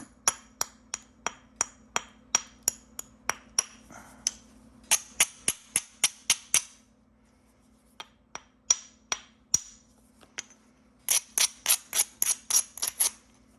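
Sharp, clicky strikes of flint knapping as thinning flakes are struck off a root beer chert biface, dozens of close taps in irregular bursts with brief pauses between runs.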